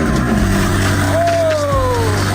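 A car engine fires up and revs in a garage, a loud, close, continuous roar with a sweeping pitch as it climbs and settles.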